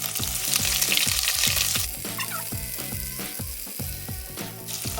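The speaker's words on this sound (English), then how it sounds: "We'll add a small cup of onions." Onions sizzle and fry in a pan for a pineapple and cashew nut curry, a loud, close crackle with rhythmic scraping stirs throughout and no talking.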